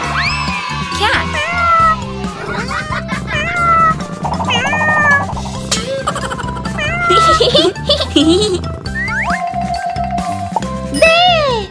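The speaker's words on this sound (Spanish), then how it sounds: "Un gato. Cat." Over a children's educational song, a cartoon cat meows repeatedly in high, sliding cries that run under singing voices, with jingling chimes and steady bass notes throughout.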